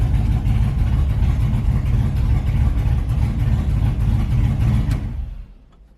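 An LS-swapped S10 drag truck engine runs loud and steady with a deep, rumbling idle that holds close up, then cuts off abruptly near the end, leaving the sound to drop away.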